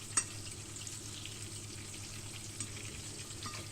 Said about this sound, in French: on attend que les sardines cuisent